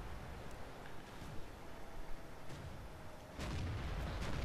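A tank cannon shot from the T-150 in World of Tanks, with faint booming reports over a hiss of battlefield noise and a heavier blast near the end.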